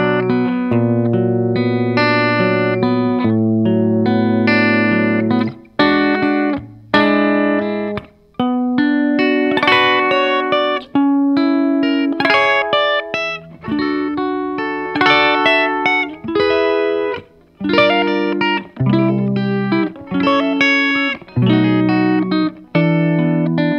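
Guitar plays the bridge of a song as a clear, ringing sequence of plucked chords and single notes in a steady, unhurried rhythm, with brief pauses between phrases and no talk.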